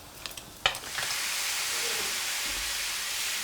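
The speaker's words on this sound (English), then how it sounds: "we've browned off our mince now. We've got just the right amount of fat inside the pan." Lamb mince browning in its own fat in a frying pan, with a few utensil scrapes and clinks at first, then a steady, close sizzle and hiss.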